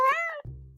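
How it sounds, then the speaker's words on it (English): A cat gives one clear, close meow that bends in pitch, followed by a lower, buzzy growling tail. "meow, meow, meow, meow, meow."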